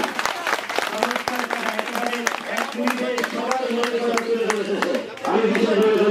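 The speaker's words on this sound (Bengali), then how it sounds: "আমরা একটা হাততালি দিতে পারি।" An audience at a rally applauds in a steady burst of clapping while a voice carries over a loudspeaker, the applause swelling again near the end.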